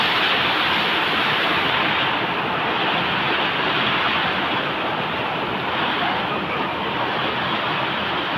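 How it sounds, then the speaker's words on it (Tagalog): A swollen river in Camaya rushes strongly down from the mountain during flooding, making a loud, continuous roar of turbulent water with no talking. "Maragasa na yung tubig niyan sa ano, galing sa bundok."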